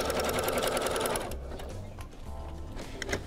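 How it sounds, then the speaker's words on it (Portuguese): An overlock serger stitches around the edges of fabric for a shoulder clutch, a loud continuous mechanical whir close by that eases slightly partway through. "Então você vai passar o overlock em volta de todo o trabalho"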